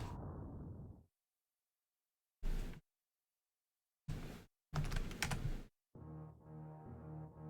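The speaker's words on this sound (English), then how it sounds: "The typing noise is me typing GG enter." Short bursts of typing on a computer keyboard, a few quick key clicks in separate clusters separated by silence, close and fairly loud, followed by a steady tonal hum at the end.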